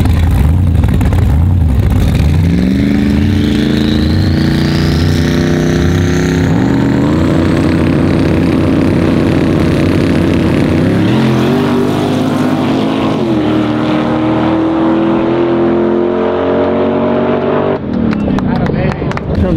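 A twin-turbo Camaro on a no-prep small-tire drag strip makes a loud, sustained engine roar that climbs steadily in pitch through the gears, with shift dips partway, then cuts off abruptly near the end.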